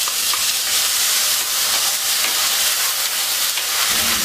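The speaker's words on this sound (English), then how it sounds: "So I let the peas and potatoes fry off in the aromatic oil for some time." Green peas sizzle and fry in hot aromatic oil seasoned with hing and fennel, a steady, close, even hiss with faint stirring throughout and no talking.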